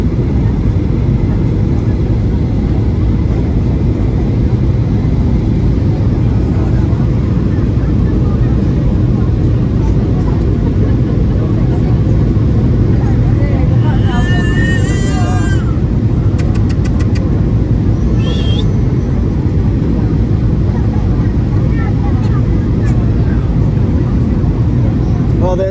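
Cabin interior of a passenger plane landing at Newcastle Airport after a flight from Palma, with a loud, constant broadband engine and airflow roar filling the whole stretch and brief higher tones partway through.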